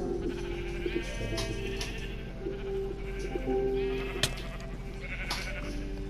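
Sheep in the Minecraft video game bleating in short, wavering calls, several of them repeated at moderate loudness over a steady low background hum, with no talking.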